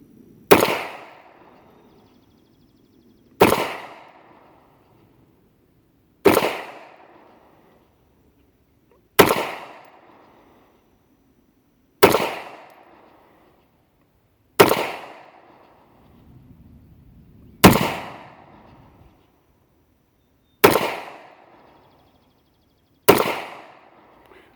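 A Rock Island .22 TCM pistol fires at an outdoor range, aimed at a B21 target at 15 yards. Nine sharp, loud shots ring out singly at even intervals of about three seconds, each with a short decaying echo.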